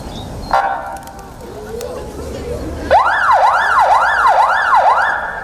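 A wailing emergency siren rises and falls in repeated sweeps, loud and close, after a brief burst of a different horn-like tone.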